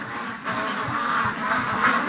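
Muscovy ducks settling in for the night give soft, repeated low quacks and murmurs close by, a steady chatter over quiet background, with no talking.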